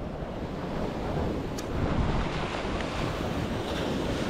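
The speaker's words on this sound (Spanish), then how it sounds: "Esta última ola es la que, la que no es normal tenerla por aquí." Ocean waves break and wash onto the beach at Playa de la 38 in Playa del Carmen, a continuous surging roar with wind buffeting the microphone and one wave swelling louder midway.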